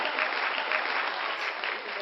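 Applause sound effect played in a Verge3D web demo, a steady dense clapping of a crowd, moderately loud and bright, running throughout without pause.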